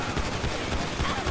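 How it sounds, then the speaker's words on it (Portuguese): Gunfire from a shootout in the video game GTA V, a dense, continuous crackle of rapid shots and bursts filling the whole moment at steady loudness, with no talk over it. "Trocar tiro com os malucos aqui, tio."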